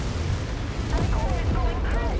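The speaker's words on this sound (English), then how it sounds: "its ammo just exploded and took out the mech" In MechWarrior 5: Mercenaries, a mech's ammunition cooks off in a sustained, rumbling barrage of explosions that fills the whole stretch, with a voice talking over the din.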